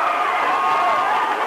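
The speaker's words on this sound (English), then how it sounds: "Crowd's getting into it now, kid." A crowd at a high school football game, a continuous broad roar of cheering heard as a dense wash of voices through the whole moment.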